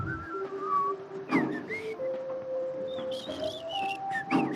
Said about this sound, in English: when I'm in elevators, I have this instinct to whistle